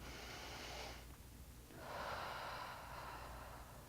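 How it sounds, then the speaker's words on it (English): One person breathes deeply, drawing a slow, airy inhale for about a second, pausing, then releasing a longer, breathy exhale. The breath is close and quiet, with no talking. "So I'm going to inhale"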